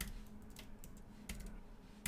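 Quick, irregular clacking of computer keys being typed, close by, with a couple of sharper key hits.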